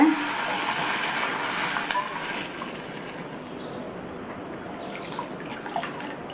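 About one and a quarter cups of water pour into uncooked vermicelli in a kitchen pan, giving a steady splashing rush for a few seconds before it settles into a softer, quieter trickle.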